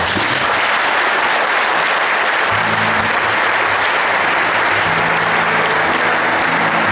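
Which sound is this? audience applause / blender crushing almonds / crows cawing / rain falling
audience applause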